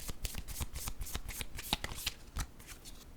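Tarot-style guidance cards being shuffled in the hands, a rapid run of soft, crisp riffling flicks and slaps repeating for about three seconds, close and fairly quiet, with no talking.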